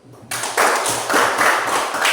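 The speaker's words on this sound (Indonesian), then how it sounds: "kasih tepuk tangan dulu" A class of Indonesian schoolchildren claps hands together in a classroom, a sudden loud burst of dense applause that swells in waves after a brief quiet moment.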